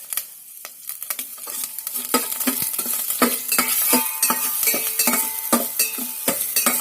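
Finely chopped ginger and garlic fry in hot oil for mutton chilly, a steady loud sizzle close by with repeated scraping and clinks of a spoon stirring against the pan.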